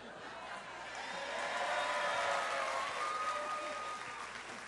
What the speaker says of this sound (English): They're applauding the nipple hair.